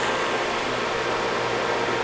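A downdraft sanding table's fan runs steadily and alone, a continuous broadband whoosh with a low hum, close and fairly loud, unchanging throughout.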